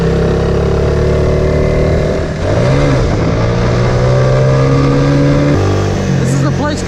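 A 2003 Suzuki FX125 DOHC motorcycle with a 5-speed manual gearbox being ridden, its engine droning loud and close, pitch climbing and dropping through gear changes and throttle shifts.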